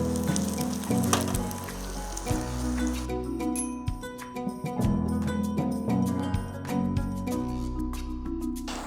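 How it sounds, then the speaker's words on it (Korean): Potato pancake frying in oil in a pan, giving a steady close sizzle with occasional crackles and brief shuffling as the pan is shaken. "이 가장자리에 기름이 어느 정도 끓어야 안 달라붙고 안 타거든요"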